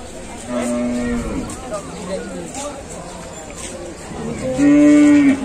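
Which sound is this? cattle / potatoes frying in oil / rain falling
cattle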